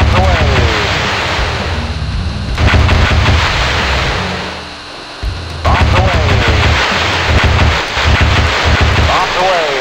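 Bombs dropping and exploding in the flight-sim game Fighters Anthology, a sustained heavy rumble of blasts in two loud bursts separated by a brief lull, with a voice speaking over it.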